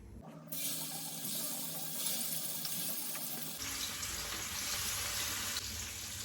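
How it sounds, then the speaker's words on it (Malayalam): Fish pieces for fish masala drop into hot oil and fry with a steady, loud hiss and sizzle that swells partway through and keeps going with no talk. "മീനൊക്കെ ചൂടായി വന്നിട്ടുണ്ട് അപ്പൊ മീൻ ഓരോന്നായിട്ട് ഇട്ട് കൊടുക്കാൻ വേണ്ടി പോണേ"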